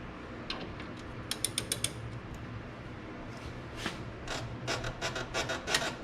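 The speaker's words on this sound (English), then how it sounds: "it makes that same noise that the suspension normally does" RZR suspension squeaks and creaks in faint, close, intermittent bursts, with short ratcheting rubs that come in clusters over a steady low background.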